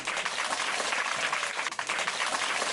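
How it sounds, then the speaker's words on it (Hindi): A crowd of onlookers clapping for a magic show, a dense, steady burst of applause at moderate distance lasting a few seconds, with no speech over it. "बजाओ ताली।"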